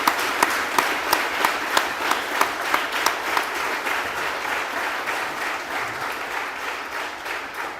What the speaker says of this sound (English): let's go ahead and give every staff member here a round of applause